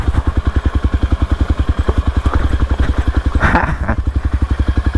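A motorcycle rolls down a steep mountain hiking trail at Puncak Upas, Tangkuban Parahu, its engine thumping in a steady, rapid idle-like pulse up close, with a brief clatter midway and faint voices.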